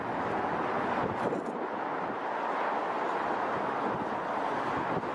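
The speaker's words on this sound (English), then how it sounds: "it's windy up here" Steady wind buffets a microphone outdoors, a continuous broadband roar with no voices or breaks.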